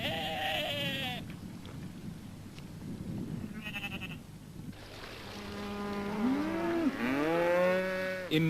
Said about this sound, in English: In November, the cattle leave the mountain to winter at Loves Grove.